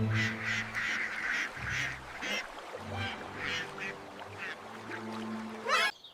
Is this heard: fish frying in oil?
no